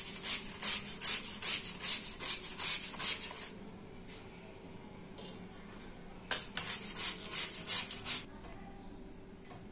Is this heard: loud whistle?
no